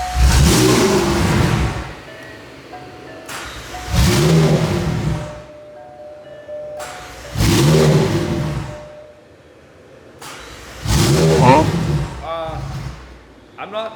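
McLaren 720S fitted with new downpipes, revved hard four times in a row, each burst rising to a loud rasping roar and dropping back to a quieter idle, with short pauses between the blips.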